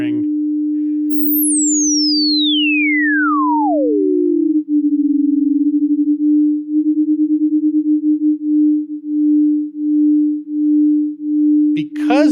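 A high-pitched oscillator sine tone sweeps steeply downward from the top of the hearing range, then settles into a steady low pure tone that pulses and wavers from phase cancellation in a DAW, loud and alone.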